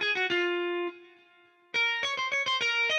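A clean Telecaster-style guitar plugin plays with no effects: bright plucked notes in a quick rhythmic run, one note held and fading, then more crisp plucks, alone and upfront.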